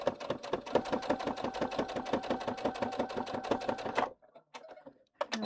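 A sewing machine stitching a River Walker bag runs fast and close for about four seconds, its needle thumping in a rapid even rhythm, then stops, leaving a few faint handling clicks and no talking.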